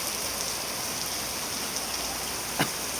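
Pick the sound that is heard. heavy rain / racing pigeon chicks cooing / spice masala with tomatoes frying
heavy rain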